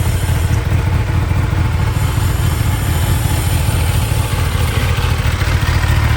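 A Kawasaki ZX-10R sport motorcycle engine idles steadily and loudly up close, a low, even rumble with light mechanical clatter throughout, no voices.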